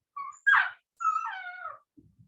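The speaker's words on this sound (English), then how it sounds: "can you hear my dog?" A dog cries and whimpers at a door in a short run of high, wavering whines, fairly close, with a brief soft scuffle at the end and no talking.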